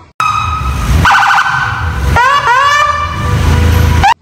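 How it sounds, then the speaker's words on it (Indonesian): Toy police patrol car siren wailing in rising and falling electronic tones, loud and close, repeating steadily for several seconds with a few sharper sweeps. "Wow, ada mobil patroli polisi."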